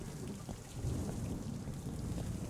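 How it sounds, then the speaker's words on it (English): Thunder in the video game The Joy of Creation: Reborn, a steady low rumble rolling under constant rain, fairly distant and continuous throughout, with no talk. "I don't like this thunder."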